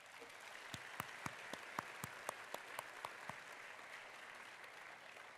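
Steady applause from an audience at a university convocation ceremony runs throughout, a dense even wash of clapping with a few sharper nearby claps standing out in the first half.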